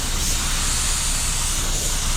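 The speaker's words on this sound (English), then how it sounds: "Oh my God, that sprays so good." A DIY paint spray gun set to 1.5 sprays in a steady, loud, continuous hiss that holds evenly from start to finish with no talk over it.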